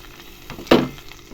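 Bread halwa sizzling in ghee in a pan, with one loud crackling hiss that swells and then settles into a softer, steady fry.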